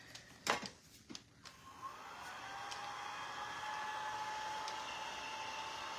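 Hair dryer blowing on a freshly made craft, a steady close whir with a faint high tone that starts after a few knocks and handling sounds and continues alone.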